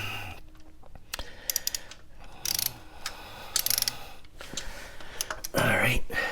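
Torque wrench tightening star-drive engine guard bolts on a Triumph T120 motorcycle, a series of close, sharp ratcheting clicks in irregular bursts, with someone talking between them.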